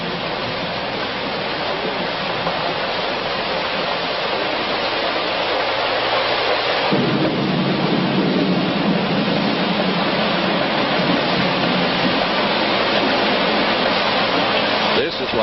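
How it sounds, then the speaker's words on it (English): Heavy rain pours steadily outside a hotel, the first decent rains in four months, a dense continuous roar that swells louder and deeper about halfway through, with no distinct thunderclaps. "they are enjoying the first decent rains in 4 months"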